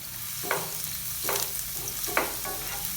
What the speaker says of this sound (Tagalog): Kung mainit na, igisa na po natin ang bawang